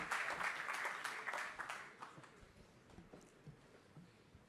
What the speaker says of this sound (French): Sous vos applaudissements, s'il vous plaît